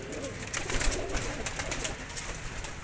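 Soft pigeon cooing and bird calls amid a busy, noisy background, steady and moderately faint.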